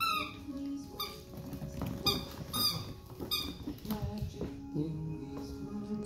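A squeaky toy squeaks repeatedly in short, uneven bursts among seven-week-old puppies, fairly quiet, with soft rustling and shuffling around it.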